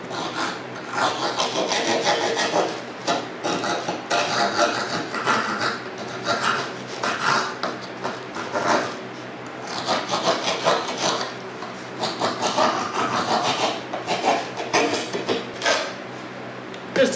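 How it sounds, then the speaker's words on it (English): A hand file rasps against the wood of a mold for a teardrop camper in steady, repeated back-and-forth strokes, close and gritty, with brief pauses between bursts of filing. "Maybe I can take one of my files"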